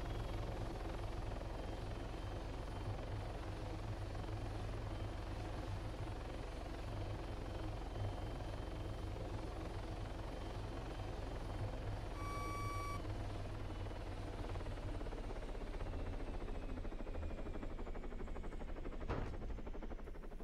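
A helicopter in Arma 3 descends in autorotation and settles into a soft landing. Its low, steady rotor and engine drone runs throughout, with a brief electronic warning tone partway through.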